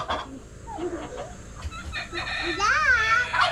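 Chickens cluck and squawk nearby, with a rooster-like drawn-out call toward the end, over faint background voices.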